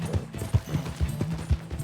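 Horse hooves clip-clopping at a steady trot while riding in Red Dead Redemption 2, a regular rhythm of close, moderately loud hoofbeats with a faint low hum beneath.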